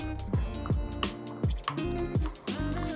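A spoon stirs garlic into a sauce mixture for a fish wrap, making close, wet squishing and clinking sounds in a steady rhythm of about six strokes, with no talking.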